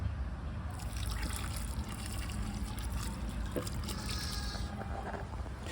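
Water pours and trickles steadily onto soil and leaves, a soft continuous splashing close by with faint background hum.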